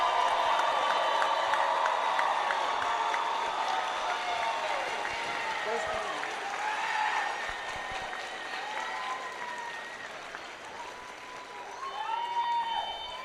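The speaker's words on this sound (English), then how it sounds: "can we have a huge round of applause for these amazing young people" Sustained crowd applause with scattered cheers at a high school commencement ceremony, a busy wash of clapping over music-like tones, fading slightly then swelling again near the end.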